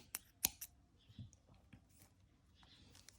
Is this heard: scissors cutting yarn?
yes